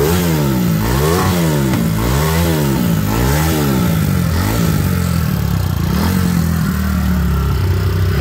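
A modified 149cc motorcycle engine revs hard again and again, close and loud, in a rhythmic rise and fall before settling into a rough idle. No one speaks.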